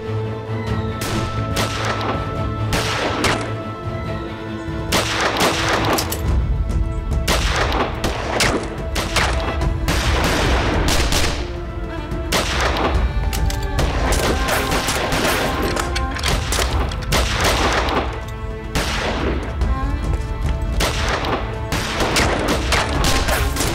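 Heavy gunfire rages during a raid on a ranch house, dense loud volleys and rapid bursts overlapping almost without pause, with booming reports and crashing impacts throughout.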